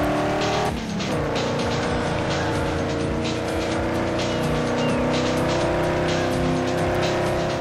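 A racing car in the video game Ford Racing 2 roars continuously at high revs, with a brief shift near the start and tires squealing, loud and sustained throughout.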